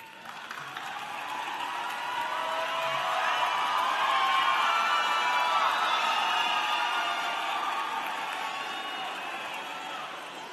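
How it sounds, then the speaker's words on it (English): A large graduate and professional commencement crowd applauds and cheers, a dense, even roar of clapping mixed with scattered whoops that builds gradually, holds steady through the middle and slowly tapers toward the end. "Please stand and give them a warm of applause."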